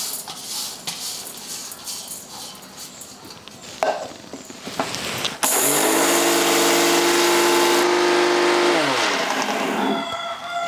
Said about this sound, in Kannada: ಅಕ್ಕಿ ತಣ್ಣಗಾಗ್ಯಾವ, ಮಿಕ್ಸಿ ಜಾರಿಗೆ ಹಾಕಿ ರುಬ್ಕೋತೀವಿ ನೋಡಿ.